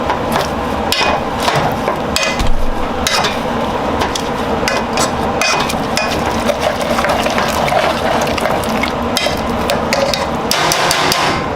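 Potatoes with Parmesan cubes and salt are mashed in a pot, making loud, continuous thumping and squelching with a busy, wet texture and repeated sharp knocks of the masher.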